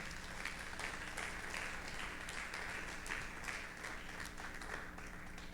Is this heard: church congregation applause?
yes